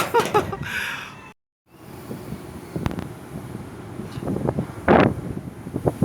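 Gusty wind buffets the microphone with rumbling bursts while a kite flies high, broken by a brief silent gap and a sharper rustle near the end.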